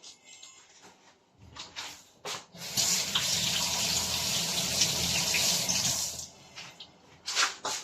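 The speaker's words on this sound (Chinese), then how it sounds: "然后我们洗一双筷子。" A pair of chopsticks is rinsed under a running kitchen tap, with short bursts of water at first, then a steady splashing stream for several seconds before it cuts off, followed by a few brief splashes.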